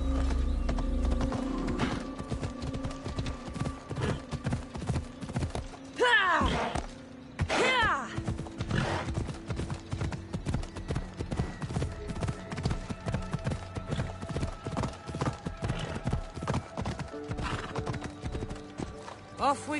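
Horse galloping in the video game Assassin's Creed Odyssey: continuous thudding clip-clop hoofbeats with a brief whinny, in-game mechanical clatter and a spoken voice over the top.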